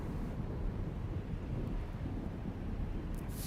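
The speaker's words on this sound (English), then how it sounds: "thunder of a storm on the horizon" Steady wind blows over the landscape in Dark Souls Remastered, a constant low roar with a faint far-off rumble of a storm, no voices.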